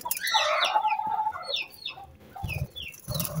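Rare-breed hens in a backyard poultry setup cluck and squawk in close, busy, overlapping calls, with no talking.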